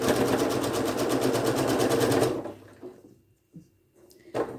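A sewing machine runs steadily for about two seconds, stitching a log cabin heart quilt block seam, then stops, leaving a quiet room with a couple of faint knocks.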